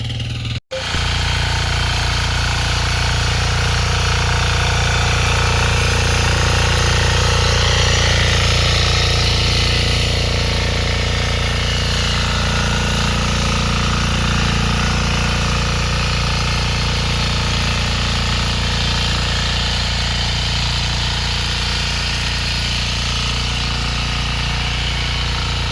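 A tractor ploughing a field during the Konkan rice sowing season gives a loud, steady engine drone. It runs continuously for the whole stretch after a brief cut at the very start, and no one talks.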